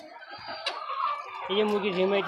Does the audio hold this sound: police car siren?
no